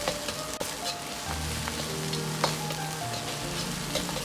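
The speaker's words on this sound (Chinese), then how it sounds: "接着下入控干水分的香料，继续炒出香味" Spices that were drained of water sizzle as they are stir-fried in a wok with oil, scallion, ginger and garlic, a steady soft crackling hiss with faint scraping, no talk.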